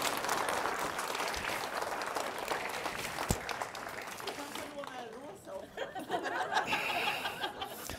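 An audience at a lecture claps, a moderately loud crowd applause that thins out midway as chuckles and chatter mix in, then a voice speaks over the remaining claps.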